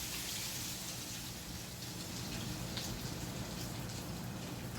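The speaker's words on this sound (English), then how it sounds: "Then you slowly add the fish to the oil." Beer-battered walleye fillet sizzles in hot oil for deep frying, a dense and steady crackling hiss heard close up, loud and continuous with no speech.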